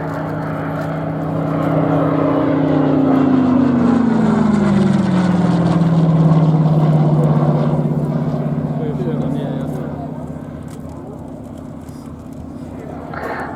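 A Yak 3 piston fighter flies a display at an air show, its propeller engine droning loudly with a falling pitch as it passes and then fades, under steady commentary.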